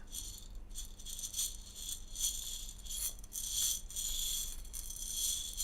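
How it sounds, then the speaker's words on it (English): Quiet shaken percussion stands in for a fire in a children's music session about the Great Fire of London. The soft, hissy rattling comes in uneven bursts and swells throughout, with no talking. "so I can make scrapey, crackly sounds, but I can also make shaky sounds too"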